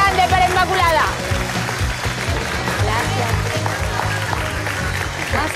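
Studio audience applause on a television talk show, a moderate wash of clapping mixed under background music and voices, not standing alone.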